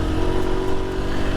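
A Honda C50 Super Cub 50cc motorcycle climbs a hill, its small engine droning steadily and loudly under load with a constant mid-pitched hum and light rasp, close and without speech.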